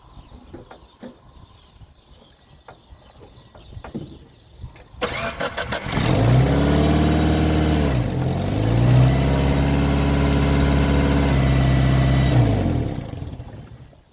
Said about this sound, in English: I'm going to do a test start just for the heck of it.